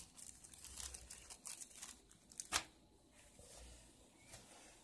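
Quiet, close crinkling and rustling of a small plastic packet, with a sharper crackle in the middle, then soft handling noises.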